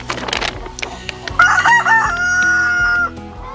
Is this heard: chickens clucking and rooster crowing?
yes